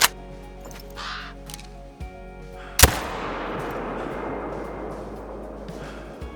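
In the Call of the Wild hunting game, one sharp, loud rifle shot cracks out and then rolls away in a long, fading echo over steady outdoor ambience.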